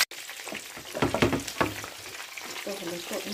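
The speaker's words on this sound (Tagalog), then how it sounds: "hanggang pinipreto natin." Shrimp tempura frying in hot oil, a steady close sizzle with brief louder crackling bursts and some stirring, fairly constant throughout.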